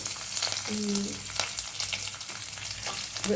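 Garlic pieces frying in a pan, with a steady close crackling sizzle and a few faint stirring scrapes over its short span.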